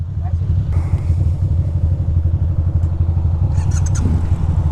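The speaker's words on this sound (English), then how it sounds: "my bike was having trouble starting, so I'm not shutting it off" A Ducati Monster motorcycle engine idles steadily and loudly close by, a continuous low throbbing rumble throughout, with faint background sounds and no speech.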